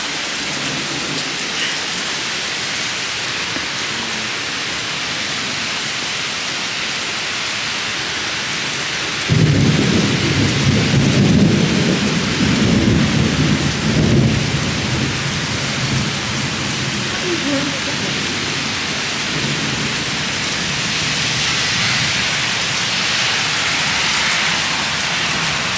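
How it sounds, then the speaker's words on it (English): Heavy rain pours steadily onto a porch during a tornado-warning storm, and a loud rumble of thunder rolls in partway through, then fades back into the constant hiss of the downpour. "We got the rain coming in on the porch."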